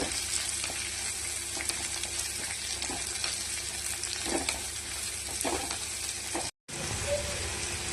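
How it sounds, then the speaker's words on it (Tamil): Onions and curry leaves for poori masala sauté in a pan with a steady, dense sizzle and crackle throughout, broken by a brief drop-out near the end before the frying resumes. "ஒரு கொத்து கருவேப்பிலை, வெங்காயம் வதக்கி விட்டுக்கலாம்."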